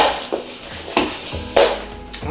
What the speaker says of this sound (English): the dough whisk works great for this